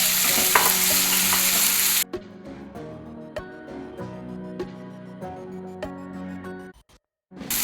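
Onions and tomatoes frying in a pan for a breadfruit masala curry, a loud sizzle that suddenly drops to quieter crackling with scraping stir strokes and clinks, then a brief pause before the sizzle returns.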